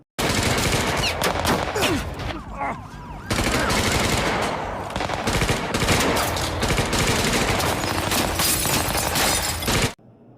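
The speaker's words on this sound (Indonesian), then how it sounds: "Dan di sini terjadi lagi aksi saling tembak-menembak." Gunfire in a 2019 film shootout: loud, dense bursts of rapid shots and crackling blasts fill nearly the whole clip, broken by a short lull, with shattering debris mixed in.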